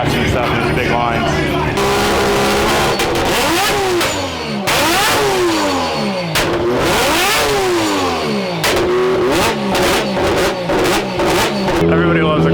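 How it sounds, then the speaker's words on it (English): A drift car's engine revs hard in repeated loud bursts, pitch sweeping up and down between sharp throttle blips, close by with crowd noise and talk faintly underneath. "Everybody loves a car revving."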